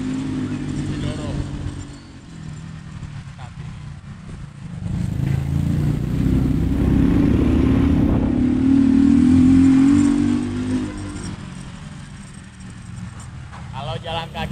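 A motorcycle taxi climbs the slopes of Mount Sindoro, its engine droning steadily close by and rising to a stronger revving stretch midway, with people talking over the motor.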